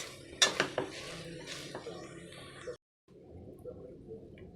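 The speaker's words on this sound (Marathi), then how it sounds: "डाळीत साखर घालण्यापूर्वी डाळ नेहमी अशी ठेचून घ्यायची आहे कुकरमध्येच" Cooked dal is mashed inside a pressure cooker. There are several close metallic clanks and scrapes from a utensil against the pot, then softer squelching, a brief pause, and faint low background noise.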